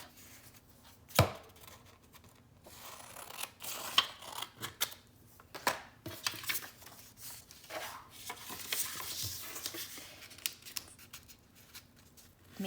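Scissors snip through a folded book page while making a paper star, a series of close, sharp cuts at an irregular rhythm with brief rustles of paper between them.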